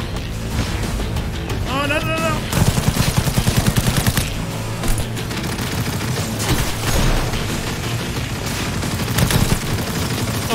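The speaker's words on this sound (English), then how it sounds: "Oh, he's got a smart gun too" Rapid bursts of smart-gun fire from an enemy in Cyberpunk 2077 rattle over busy game noise, loud and close, with a fast string of repeated shots.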